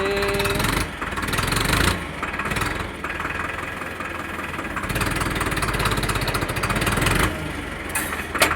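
A steady mid-pitched Digitrac PP46i tractor engine runs continuously at close range while ploughing, with a few louder surges and brief dips, and no one speaks.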